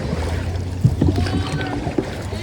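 Canoe paddles dip and pull through water on a guided canoe ride, several irregular splashing strokes over a steady low rumble of wind and motion, fairly close.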